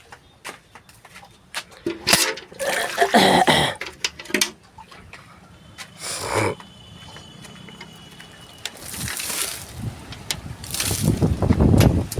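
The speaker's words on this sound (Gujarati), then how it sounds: "પવન બહુ ઉખડો" Strong wind gusting outdoors in rural Kathiyawad, Gujarat, buffeting the microphone in uneven surges with low rumbling bursts that rise and fall throughout.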